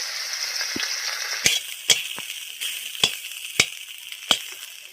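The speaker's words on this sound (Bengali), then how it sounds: "কচু শাক রান্নার জন্য আমি ইলিশ মাছের মাথাটা ভেজে নেব।" A hilsa fish head fries in hot oil, with a steady sizzle and a few sharp clinks and scrapes of a utensil against the pan as it is turned.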